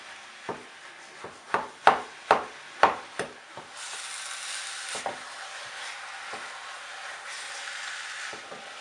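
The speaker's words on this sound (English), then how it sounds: "I'm going to take my spoon and just break the meat through" A spoon scrapes and taps through ground meat cooking in a pan for a bolognese ragù, giving a run of sharp knocks in the first few seconds, then a steady soft sizzle with a few scattered clicks.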